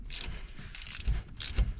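A 3/8 ratchet clicks in short repeated bursts, loosening bolts on a Hurst shifter in a 1998 Ford Mustang Cobra with a T45 transmission, close and crisp with no speech.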